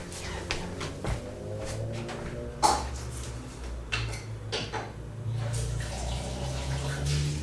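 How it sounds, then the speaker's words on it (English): Juicer parts are rinsed under running tap water, a steady close hiss and splash broken by a few clunks and knocks as the pieces are handled, with no talking. "I'm gonna rinse these and bring them back."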